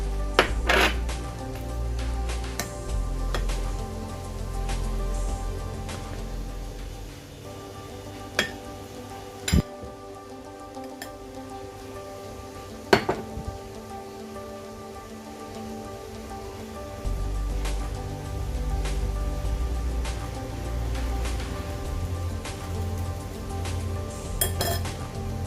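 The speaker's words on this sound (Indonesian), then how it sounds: "sekarang kita tambahkan tepung terigu dan coklat bubuknya sambil diayak ya teman-teman" Wheat flour and cocoa powder are sifted through a sieve, producing a continuous soft pattering rustle with scattered metallic taps and clinks against the bowl, no voices present.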